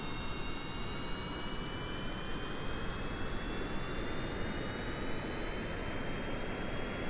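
Rocket boosters fire at full throttle in the game Stone to Space, a steady dense roar with rising high whines sustained throughout, no talk over it.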